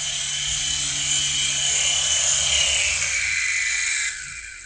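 Toy helicopter flying with a steady high whirring rotor buzz, close and loud, then the motor winds down and drops away near the end as it lands.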